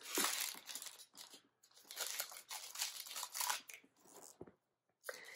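Handbag packaging being crinkled, crushed and snipped with scissors during an unboxing, a close, irregular run of rustling and cutting sounds with short pauses.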